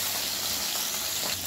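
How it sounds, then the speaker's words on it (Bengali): Koi fish fry in hot mustard oil, giving a short, steady hiss of sizzling throughout, fairly loud and close with no talking. "মাছগুলো ছেড়ে ভেজে নিচ্ছি।"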